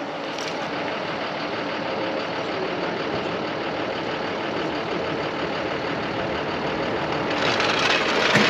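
A 1966 Ford Mustang classic car engine idling steadily and close, a continuous broadband rumble that swells slightly louder toward the end, with no talk.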